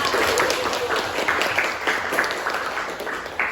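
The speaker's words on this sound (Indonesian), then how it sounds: "Oke, beri tepuk tangan untuk teman-temannya." Students in an economics classroom applaud their classmates, a moderate, steady patter of many hands clapping in a room, fairly even in level and without talk.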